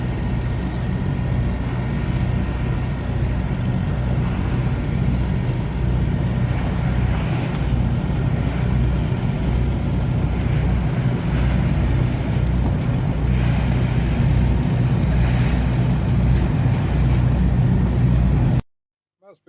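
Historic British Power Boat launches from Hythe, including High Speed Launch 102 and Motor Gumbo 81, run at sea off Normandy with a steady, loud engine drone and wind buffeting throughout, cutting off abruptly at the end.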